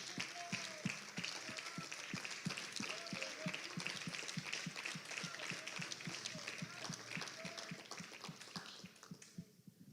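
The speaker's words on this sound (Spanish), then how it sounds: "¿Por qué no le da un aplauso al Señor?" Church congregation applauding during a Spanish-language sermon, a steady wash of many hands clapping across the whole stretch under faint background voices, tapering off at the very end.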